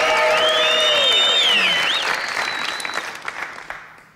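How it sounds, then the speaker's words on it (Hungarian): Studio audience applause from a live talk show, a loud dense wash of clapping with a few whistles and cheers, fading gradually toward the end. "megy a taps"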